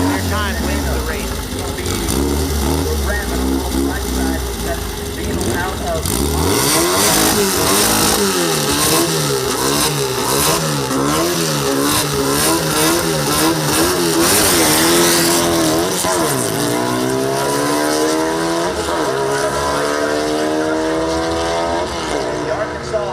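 Drag race cars, including fuel altered, OSBH and VW entries, launch and race down the track. Loud engines rev and rise in pitch through the gears and fade as the cars pull away, while an announcer talks over the sound.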